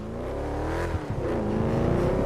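A vehicle engine revs in a video game, a loud, continuous whining roar that dips briefly and then climbs again, with no talking over it.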